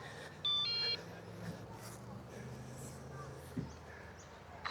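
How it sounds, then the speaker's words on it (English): A quick pair of electronic beeps from a Losi Promoto-MX RC motorcycle sounds near the start, followed by faint background noise and soft rustling. "This thing's beeping at me."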